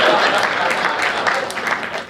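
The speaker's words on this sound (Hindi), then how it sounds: "एक बात तालियां बजाइए।" Audience members at a Hindi comedy poetry show clap steadily, a fairly loud burst of applause that thins slightly toward the end.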